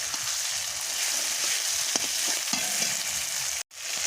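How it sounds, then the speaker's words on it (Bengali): A pan of spices with chili paste for chicken curry fries with a dense, continuous sizzle, close and fairly loud, broken by faint stirring scrapes and a brief dropout near the end. "তারপরে আমি হলুদটা দেবো।"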